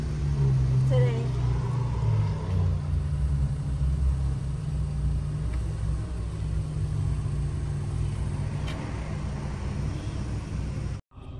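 A car drives on the road, its steady low engine and road rumble filling the cabin throughout, with a person talking over it.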